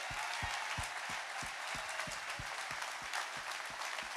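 Crowd applause welcoming Charles Barkley at a fish fry event, steady broad clapping from a large audience with a rhythmic low thumping beat pulsing underneath throughout.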